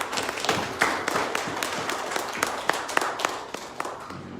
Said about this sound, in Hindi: तालियों के साथ ये शुक्र।